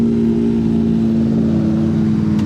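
Modified sports car engine, a McLaren 600LT or Porsche GT3 RS, holding a steady loud drone with a strong low hum, nearby and without talk.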